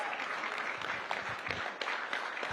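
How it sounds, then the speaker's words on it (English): Audience applause at a live startup conclave welcoming a guest, a steady, dense wash of clapping at moderate distance without pauses, with no talk. "A huge round of applause."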